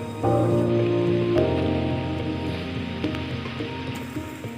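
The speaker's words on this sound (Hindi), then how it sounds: "और हल्की हल्की बारिश गिर रही है।" Light rain falls during a mountain trek near a base village, a soft steady patter and hiss on surfaces, moderately close and continuous, with a faint tonal hum in the background and no talking.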